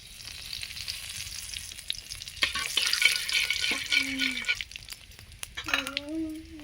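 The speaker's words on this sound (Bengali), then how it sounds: "দিয়ে দেব কালো জিরে ফোড়ন" Nigella seeds tempering in hot mustard oil in a kadai: a steady sizzle swelling louder midway, with light clinks of a utensil and faint voice-like sounds near the end.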